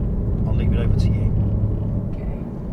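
A learner car driving along a road and onto a slip road during a driving lesson, with a steady low engine and road rumble throughout and voices talking over it.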